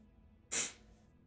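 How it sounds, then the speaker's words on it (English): A single sharp sneeze voiced by a character in the video game Limbus Company bursts out abruptly and fades within half a second, alone against near silence. "I gotta sneeze."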